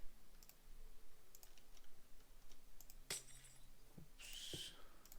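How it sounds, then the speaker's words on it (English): Wooden trap doors placed in Minecraft give a few sharp, quiet clicks and knocks spread over several seconds, followed by a brighter glassy clatter near the end. "So what I like to do is I like to place some wooden trap doors."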